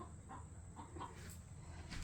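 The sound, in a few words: hen clucking in chicken coop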